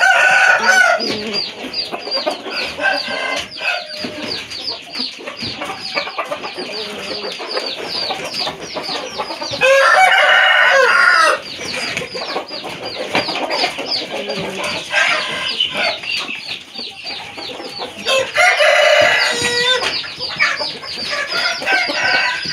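Chickens cluck steadily throughout while a rooster crows loudly and close by in several bursts, with the dense flock chatter continuing between the crows.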